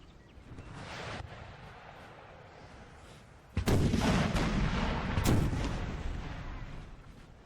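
Guard Imperial Artillery cannons fire in a Napoleon: Total War battle at Waterloo, attacking Hougoumont, with a rumbling distant barrage followed by two loud, close booming blasts against a continuous battlefield din.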